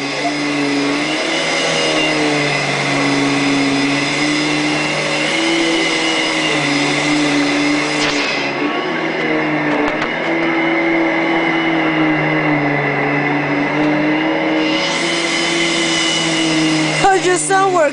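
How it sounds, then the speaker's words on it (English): A vacuum cleaner drones loudly and continuously nearby, its motor hum shifting slightly in pitch and ending with a few clunks. "No more vacuum. Say bye-bye vacuum."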